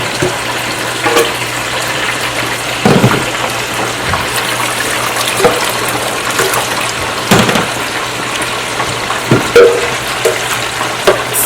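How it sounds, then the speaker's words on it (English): Water splashes steadily as peanuts are rinsed out into a cooking pot, with a continuous wet rush broken by occasional louder clinks and sloshes, and no talking. "So you just rinse it out into the pot."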